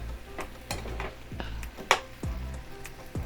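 Beef and broccoli simmer in teriyaki sauce in a pan, with a soft bubbling bed broken by repeated clanks and scrapes of a utensil stirring against the cookware at an uneven pace.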